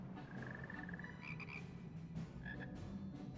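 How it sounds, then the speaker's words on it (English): Frogs croaking in Final Fantasy XIV, a few short chirpy trills over a soft constant ambient bed, fairly quiet. "Froggies."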